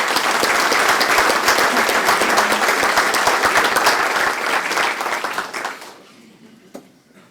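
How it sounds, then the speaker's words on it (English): Audience at a high school Hall of Fame induction ceremony applauding Tom; full, dense clapping from a large crowd that holds steady for several seconds, then thins and fades out to a few scattered claps. "I'd like to give another round of applause for Tom and the work he's doing"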